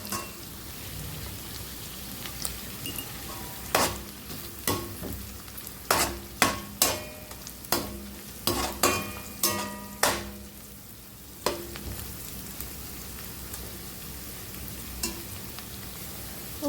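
Cauliflower stirred with salt and turmeric in a pan, a steady sizzle with a run of sharp clinks and scrapes from a spoon against the pan in the middle, close and without talk.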